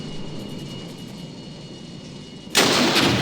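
A tank or anti-tank gun firing in the wargame Armored Brigade, a single loud, sharp boom that breaks through a steady rumbling engine-like background and leaves a broad, noisy tail.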